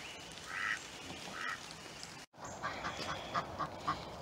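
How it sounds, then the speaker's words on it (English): Domestic ducks quacking outdoors beside their coop on a February morning, with a few separate calls early on and then a quicker run of short quacks, moderately close and fairly clear. "I'm letting the ducks out this morning"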